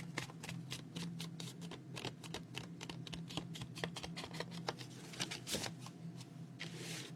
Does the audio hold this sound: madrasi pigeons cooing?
no